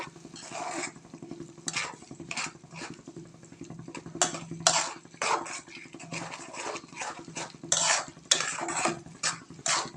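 Tengra fish with chili powder being stirred in a pan, giving repeated scraping and clinking strokes in irregular bursts over a steady low background hum, fairly close and with no talking.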